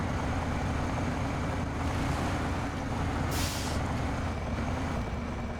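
Heavy truck engine in SnowRunner, a big, powerful but slow hauler, rumbling steadily and loudly throughout with a dense low drone, plus a brief hiss partway through like an air brake release.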